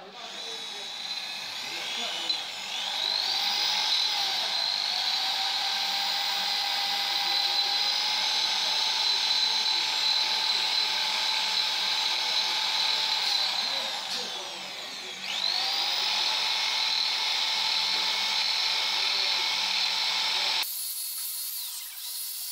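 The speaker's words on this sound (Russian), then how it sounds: "Беру дрель, вставляю щетку и приступаю к зачистке." A power drill fitted with a wire brush cleaning a metal cylinder head whirs at a steady high pitch for long stretches, briefly slowing and restarting midway, with a faint scraping grind beneath it.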